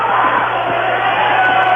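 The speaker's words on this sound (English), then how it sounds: "that'll be the last time tonight that Middle and Wildwood Catholic fans will cheer together" Basketball crowd noise at a high school game between Middle Township and Wildwood Catholic, a loud sustained roar of cheering fans filling the gym without a break.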